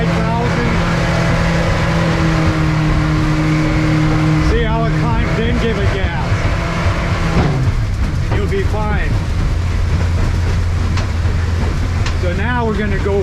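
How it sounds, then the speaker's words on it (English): A Honda 150 outboard engine on a boat out on the water drones steadily and loudly, then its pitch climbs as it revs up, with a voice talking over it. "See how it's revving up?"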